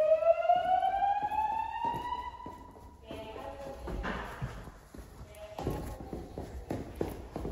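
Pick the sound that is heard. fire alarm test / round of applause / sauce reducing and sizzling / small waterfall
fire alarm test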